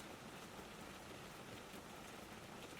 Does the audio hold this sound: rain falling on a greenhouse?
yes